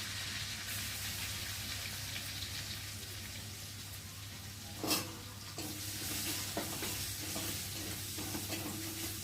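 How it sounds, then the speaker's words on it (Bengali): Garlic sizzles in hot oil in a pan with cumin and potato, a steady close frying hiss with a brief stir or clatter midway and quieter crackle after, no voices. "রসুনটা একটু ভালো করে ভেজে নেব"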